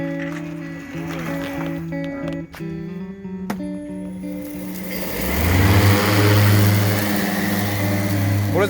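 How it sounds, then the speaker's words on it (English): A brand new riding lawn mower engine starts up partway through and settles into a loud, steady running drone, with a low rumble dominating after a quieter stretch of background sound before it. "This is how we start fishing trips now, with our brand new riding mower."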